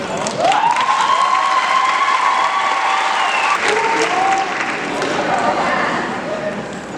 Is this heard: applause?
yes